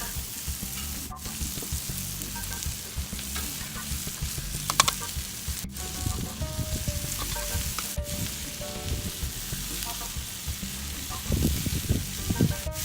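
Fajita vegetables seasoned with a steak rub sizzle loudly and steadily in a pan, with occasional clinks and scrapes of stirring over the dense frying hiss, close up and with no voices.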